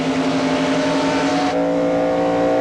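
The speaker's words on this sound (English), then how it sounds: "You can hear him in the throttle, out of the throttle, in the throttle, out of the throttle, and then wide open" A race car engine, Mike Dillon's stock car at the 2000 Sam's Club 200, drones loud and steady with strong harmonic tones, shifting pitch partway through as the throttle opens wide, with no talk over it.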